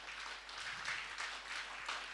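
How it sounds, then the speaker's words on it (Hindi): Audience clapping at a network marketing business talk in India, a steady wash of many hands applauding together for about two seconds, fairly quiet and without speech. "एक बार ताली देके बजा दीजिए।"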